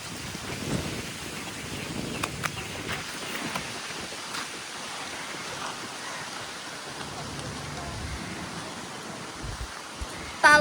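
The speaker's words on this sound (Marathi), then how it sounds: "पाऊस आलेला आहे." Rain falls on a car while people sit inside, making a soft, steady wash of patter with a few faint thumps, all fairly quiet and muffled throughout.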